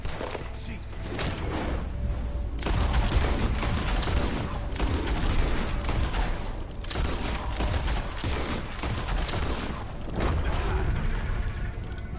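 Steady gunfire in a video game, a dense run of shots mixed with heavy mechanical clanking and booms, loud and close throughout, with voices speaking at points.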